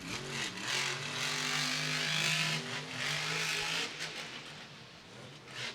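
A monster truck engine revs its throttle in rhythmic bursts at a Monster Jam show in a Jacksonville football stadium, loud and continuous with rising and falling pitch over crowd wash.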